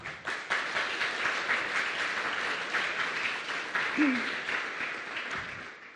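An audience at a hackathon opening ceremony in Budapest gives steady, continuous applause, a thick wash of clapping from a large crowd filling the room, with a faint voice briefly audible.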